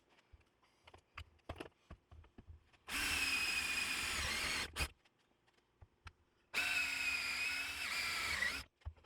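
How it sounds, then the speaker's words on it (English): A power drill bores holes in a Honda CR-V shift box in a garage, two long loud steady whines of about two seconds each, separated by short clicks and handling noises. "basically what I'm going to do is I'm going to drill out the holes"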